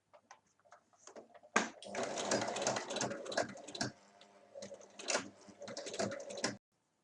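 A sewing machine stitches a half-moon fabric pencil case, with close, rapid mechanical rattling in several bursts separated by short pauses, fairly loud and with no talking.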